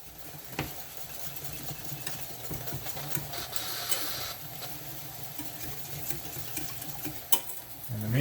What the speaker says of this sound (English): their pressure cooker is just about ready to seal itself up